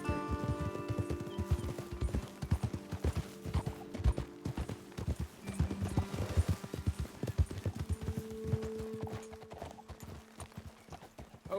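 Horse hooves clip-clopping in Red Dead Redemption 2, a dense run of close, rhythmic hoofbeats from more than one horse continuing throughout, with faint tonal background sounds.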